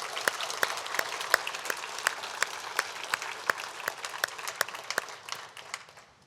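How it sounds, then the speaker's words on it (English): A roomful of people applauds new members at a Maine business breakfast meeting, many hands clapping in a steady spatter with sharper nearby claps standing out, fading toward the end. "A quick round of applause for all of our new members."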